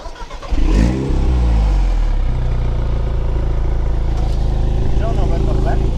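A sports car engine in sport mode with its exhaust valves open starts with a sharp bark, then holds a loud, deep revving roar close by, rising and settling in rough pulses, with voices briefly audible at the start.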